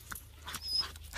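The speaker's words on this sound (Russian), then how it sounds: "Собачка." A dog gives a brief, close whimpering yip over a low steady hum, in a scene from a Russian comedy film.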